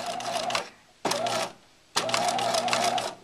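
A Bernina 1008 sewing machine sews a straight stitch along a buttonhole, running in three close whirring bursts separated by short pauses, with no talking.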